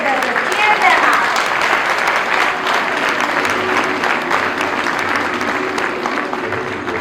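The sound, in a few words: audience applause at a school performance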